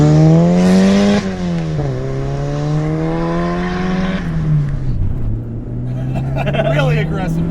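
Turbocharged Honda Del Sol with an aggressive clutch accelerating hard from inside the car, engine tone climbing through gear pulls with sharp dips at shifts, loud and continuous, with a voice briefly heard near the end.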